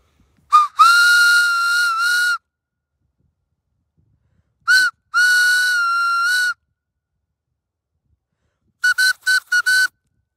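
Steam locomotive whistle sounded at a railroad crossing on the Strasburg Railroad at Carpenters Crossing: three separate blasts, two long sustained tones followed by a string of short toots, loud and clear with silence between.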